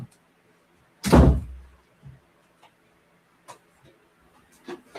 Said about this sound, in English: So let me shut the door first